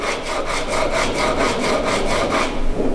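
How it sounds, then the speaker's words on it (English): Hand sanding a curved wood edge using 80 grit sandpaper wrapped on a wooden offcut, fast rhythmic back-and-forth rasping strokes about five per second, close and loud with no talking. "I took the off cut piece, put some 80 grit sandpaper on there"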